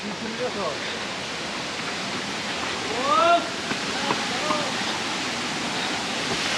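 Nohkalikai waterfall in Meghalaya roaring as a steady, dense wash of falling water, heard at a distance, with brief voices calling out faintly over it partway through.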